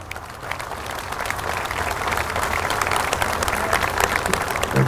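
An audience at a Memorial Day ceremony breaks into steady, sustained applause. The dense clapping holds an even level and swells slightly toward the end.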